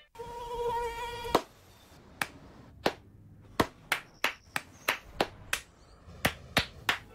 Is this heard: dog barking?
no